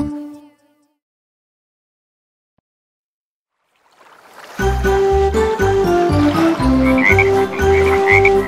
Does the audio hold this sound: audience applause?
no